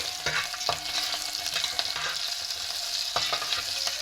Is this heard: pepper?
yes